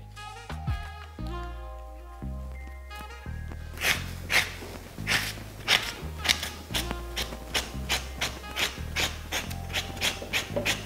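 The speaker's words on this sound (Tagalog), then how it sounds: "i-rest lang ninyo yung kamay at i-scrape out lang ninyo ng dahan-dahan" Bitter melon (ampalaya) seeds are scraped out with repeated slow, rasping strokes, a rhythmic series of rough scrapes that begins after a few seconds of soft background music.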